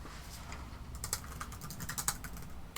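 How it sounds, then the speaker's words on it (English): Fingers type on a computer keyboard nearby, a quick irregular run of soft clicks and clacks, quiet, with no voice heard. "Can you hear me typing?"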